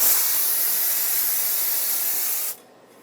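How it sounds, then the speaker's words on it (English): Brake parts cleaner hisses steadily from an aerosol can onto the wheel hub of a 2014-2021 Mazda 6 for a couple of seconds, close and loud, then cuts off abruptly. "Rinse it off with brake parts cleaner."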